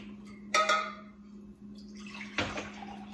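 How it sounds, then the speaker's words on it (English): Tea for a London Fog is poured into two mugs in short bursts, a splashy pour followed by a second brief pour, close and quiet against a faint steady hum. "To do it this way, you're going to divide your tea into 2 mugs."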